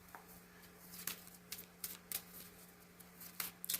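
Soft, quick riffling and flicking of tarot cards being shuffled, in short bursts over a faint low hum, fairly quiet and close.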